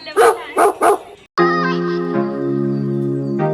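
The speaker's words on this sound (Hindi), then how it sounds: "कुत्ता कहाँ है बेटा?" At a village home in India, a dog gives three quick, loud barks close by. A sustained, whining tonal sound then follows and runs to the end.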